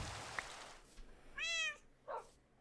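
Video game cats meowing: a few faint, short meows, one clear and tonal and another brief and rougher, over a soft background hiss with no voices.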